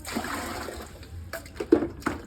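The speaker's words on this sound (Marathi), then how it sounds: "चला पाणी घालून घेऊ झाडांना पहिलंच" Water is poured onto garden plants in the early summer heat, a soft, uneven splashing and trickling close by that builds into a few sharper splatters near the end.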